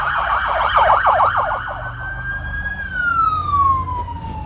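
A police escort siren wails loudly as it passes on a freeway, fast yelping cycles giving way to a long falling tone as it moves off, with road noise underneath.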